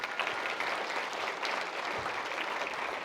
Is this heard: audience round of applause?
yes